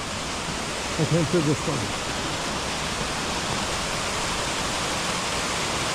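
Mountain stream water rushing steadily near the Elfin Lake trail in British Columbia, snow around, a broad constant wash at moderate distance with a brief voice speaking over it early on.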